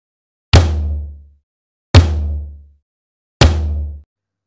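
Three deep hits on a drum kit's kick and floor tom, evenly spaced about a second and a half apart, each a booming low thump that rings briefly before fading.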